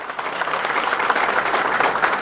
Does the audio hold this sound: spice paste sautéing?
no